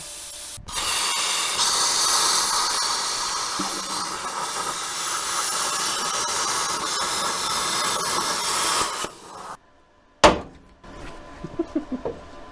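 Plasma cutter slicing through metal on an abandoned Chevy Blazer, a loud steady roaring hiss lasting about nine seconds, then a sudden stop followed by a few short sharp bursts and clanks.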